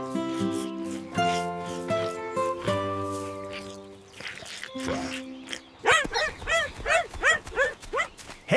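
A cartoon dog on a farm barks about six times in quick succession, close and clear. Bright cartoon music plays before the barks.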